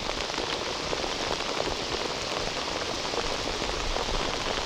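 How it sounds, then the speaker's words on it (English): Heavy rain pours onto a lake in a dense, unbroken hiss of drops striking the water, loud and close, with no voices. "It's starting to rain harder now."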